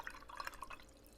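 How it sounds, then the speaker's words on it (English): An angle watercolor brush dips into water, giving a few faint, quick splashy drips and clinks over quiet background. "I will apply water to my brush"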